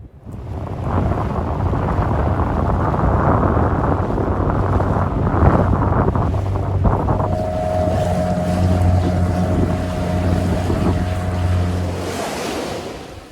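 Strong, steady wind roars across the microphone at Horseshoe Bay, Magnetic Island, mixed with the rush of water and a low engine hum that joins partway through; no one speaks.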